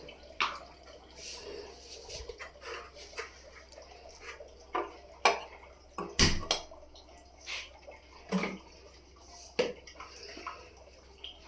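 Whole cumin, bay leaves, dried red chillies and whole garam masala hit hot oil left from frying fish for a Bengali muri ghonto, giving scattered sharp pops and crackles over a faint, quiet sizzle.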